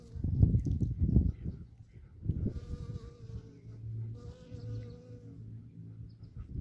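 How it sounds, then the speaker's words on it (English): A honeybee working a dandelion outdoors, giving close, soft wing buzzing that swells and fades, with a few louder low bumps early on. "Here's a honeybee working on a dandelion."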